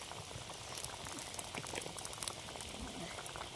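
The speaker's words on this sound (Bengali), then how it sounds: "ফুটিয়ে নিচ্ছি" A Bengali fish curry with cauliflower, kohlrabi and potato simmers at a boil, its bubbling and popping soft and continuous, close by but quiet.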